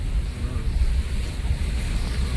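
Heavy rain and floodwater rushing across the Keshod–Mangrol road near Junagadh, with a steady broadband roar and loud low rumble of water and wind buffeting the microphone throughout, no voices.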